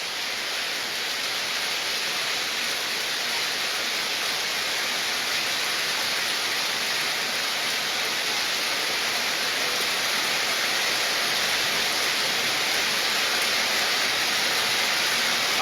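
Heavy downpour on the bank of the Baleshwar river in Mathbaria, a dense, unbroken roar of rain that holds steady and loud throughout, with no voices.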